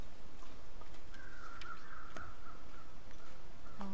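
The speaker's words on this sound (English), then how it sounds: "Okay, crows, show me the way." Crows caw in the snowy wilderness of the video game The Long Dark, a few moderately distant calls over a steady windy hiss.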